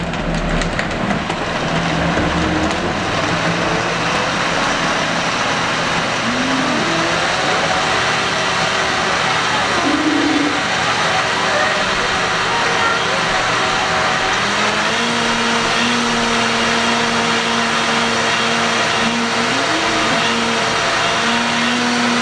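A blender whirs loudly and continuously while blending a smoothie, its motor pitch sliding up and down as the contents catch and loosen, with occasional knocks.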